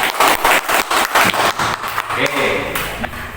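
Schoolchildren in a fifth-grade classroom break into a round of rhythmic group clapping for a classmate, steady and fairly close, then tapering into scattered claps, with a teacher's voice over it.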